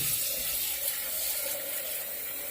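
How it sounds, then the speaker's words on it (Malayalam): Water pours steadily into a pressure cooker holding jackfruit seeds, salt and turmeric for a mango curry, making an even, close rushing splash with no talking. "കുറച്ച് വെള്ളം ഒഴിക്കണം"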